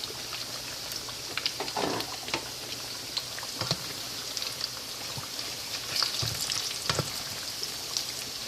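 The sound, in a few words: bananas frying in oil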